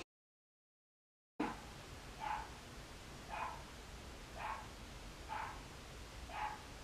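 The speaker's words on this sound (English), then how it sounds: "I've never heard my neighbor's dog bark before." A neighbor's dog barks five times at an even, unhurried pace, somewhat distant and faint over a steady hiss of background noise.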